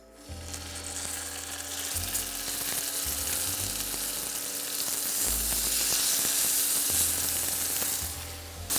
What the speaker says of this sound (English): We just want a nice sear on both sides.